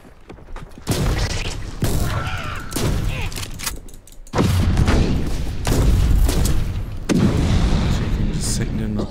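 Gunfire in Warhammer 40,000: Inquisitor - Martyr, a sustained loud barrage of shots and booming impacts with brief pauses, with a voice speaking over it.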